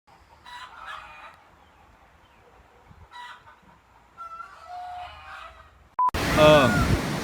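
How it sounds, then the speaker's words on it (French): Roosters crowing in Guadeloupe, a few drawn-out calls at moderate distance among faint chatter and background noise, ending with a loud close burst of noise. "Oh, il y a un coq ici"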